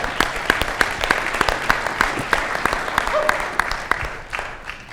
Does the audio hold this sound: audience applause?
yes